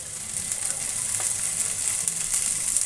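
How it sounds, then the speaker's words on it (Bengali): Spice paste sizzles steadily in a pan over low flame with fried fish roe, a continuous bright crackle with an occasional stir, fairly close and unaccompanied by talk. "লো ফ্লেমে রেখে মশলাটাকে ভালো করে কষিয়ে"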